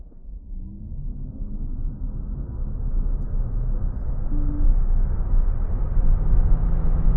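A Leapmotor B10 electric car with 218 hp pulls away at full throttle from a standstill toward 100, its low road and tyre rumble swelling steadily with a faint rising motor whine.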